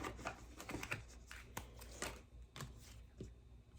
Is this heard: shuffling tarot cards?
yes